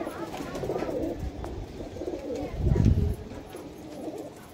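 High-flyer pigeons kept at a house in Liluah, Howrah, coo in low, throaty rolls close by, with a louder swell midway and faint background voices.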